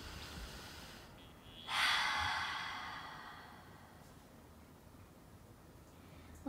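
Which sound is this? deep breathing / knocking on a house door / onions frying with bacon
deep breathing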